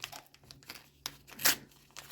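A crinkly paper sticker packet is torn open up close, with short crinkling and tearing bursts and one sharper rip near the middle, and no voices.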